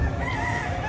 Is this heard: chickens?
yes